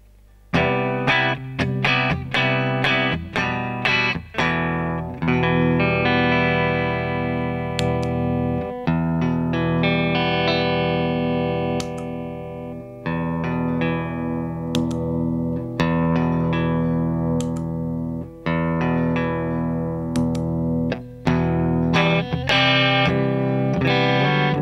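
Electric guitar played through DIY compressor pedals, an Orange Squeezer, a Ross and a DOD optical, compared in turn: a run of picked chords and single notes with steady, evened-out sustain, loud and close, with no talk.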